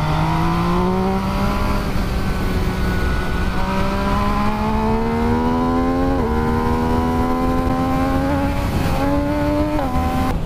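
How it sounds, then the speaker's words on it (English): A Triumph Street Triple RS, Yamaha MT-09 SP or MV Agusta Brutale 800 RR sport bike howls loudly under hard acceleration, its pitch rising through gears with quick quickshifter cuts and brief auto-blipper dips between them, with no talk. "That blipper does sound good."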